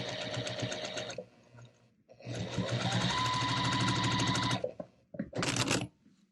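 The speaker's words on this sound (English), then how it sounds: "We're going to sew with the diamond unit on top and the strip set on the bottom." A sewing machine stitches a quilt's diamond unit onto a strip set in rapid, steady bursts: one run, a short pause, a longer sustained run, then a final quick burst, close and clear.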